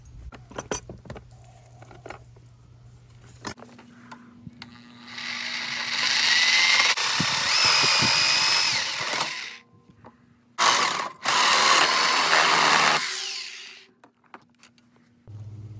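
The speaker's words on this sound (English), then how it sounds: "We're going to use a Sawzall, reciprocal saw." Reciprocating saw (Sawzall) cutting through metal wire closet shelving, a loud harsh buzzing burst of several seconds, a brief pause, then a second long cutting burst, with low mechanical hum before and after.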